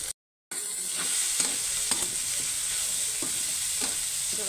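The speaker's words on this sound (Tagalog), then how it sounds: "i-toast lang natin ng konti bago natin ilagay ang ating munggo" Ingredients sizzle and crackle steadily in a hot pan as they toast before mung beans go in, with occasional stirring scrapes over a continuous hiss.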